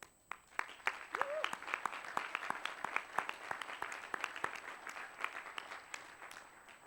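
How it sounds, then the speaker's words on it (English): Applause from the audience at a Harvard Business School Class Day graduation, a distant, fairly faint crowd clapping with distinct individual claps standing out, steady throughout; a brief voice briefly pokes through early on. "And for this, you deserve a round of applause."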